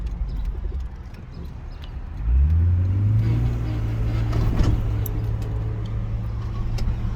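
A Jeep JK with a freshly replaced rear axle bearing and seal makes a low, steady droning hum while turning, which rises and grows louder partway through and stays under the vehicle's running noise.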